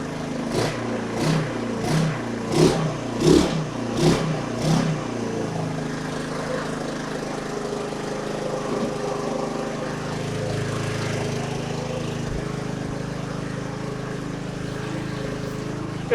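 A Honda 150cc scooter engine warming up after a few sharp blips of the throttle, then settling into a steady, droning idle close by.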